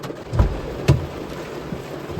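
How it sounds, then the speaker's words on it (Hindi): Rain falling outside a parked car during a fishing trip, heard from inside as a soft steady patter with a couple of heavier thumps of drops striking the body, no talk. "बारिश का आवाज़,"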